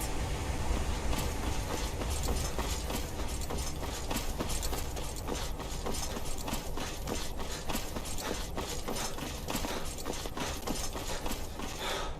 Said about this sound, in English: I think I can hear whirring and clicking deep underground